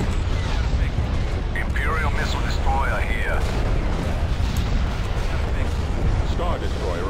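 Laser and flak weapons fire in a space combat video game battle, with dense continuous booming and rumbling blasts alongside sweeping electronic tones, while voices speak over the din.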